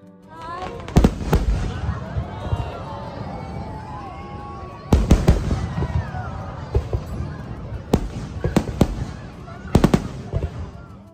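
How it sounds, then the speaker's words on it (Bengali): Fireworks burst over Niagara Falls during a Fourth of July celebration, with loud booming explosions at about 1, 5, 8 and 10 seconds, crackling and whistling trails in between, and crowd noise and voices underneath. "আর ঠিক 10টা যেই বাজলো, অমনি শুরু হয়ে গেল ফায়ার ওয়ার্কস।"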